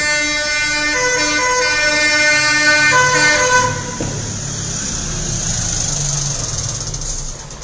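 A fire engine arrives at a car burning beneath homes. Loud blasts of a tonal horn come first, then a wailing siren continues more faintly behind road traffic noise.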